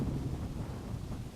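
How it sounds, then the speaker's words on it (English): Strong wind gusts buffet the microphone outdoors at a campsite, a steady low roar with rumbling swells and no talk. "Really windy though."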